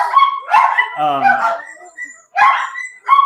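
Several dogs bark close by in sharp, loud bursts, mixed with yips and a drawn-out whimpering whine, with short pauses between the outbursts.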